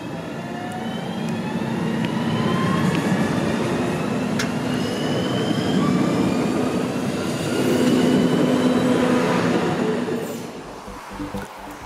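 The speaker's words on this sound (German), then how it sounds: "Hier verkehren die uns bereits bekannten 1440 Triebwagen." DB Class 1440 electric multiple unit trains at Frankfurt Hauptbahnhof, a steady rumble of a train moving through the station with faint wheel squeals and whining tones, fairly loud and sustained before easing off near the end.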